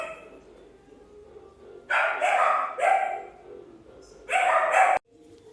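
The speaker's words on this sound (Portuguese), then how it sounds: "Também o barulho dos cachorros" Two short bursts of dog barking, a pair of loud barks followed later by another sharp bark, over a quiet background.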